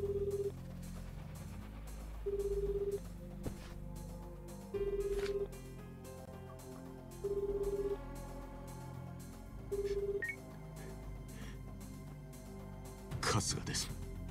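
A mobile phone rings in the video game Yakuza 8, a repeating electronic tone recurring about every two and a half seconds over background music, with a brief burst of other game sound near the end.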